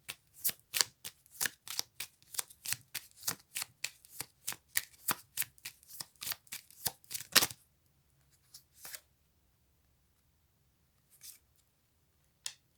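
A deck of cards is riffled and shuffled up close, a rapid run of crisp snapping flutters for about seven seconds, then a few quieter card taps and slides with pauses between.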